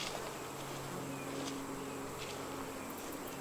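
Honeybees hum steadily around a busy hive in a fall bee yard, a faint, continuous drone with a low tonal buzz and no speech.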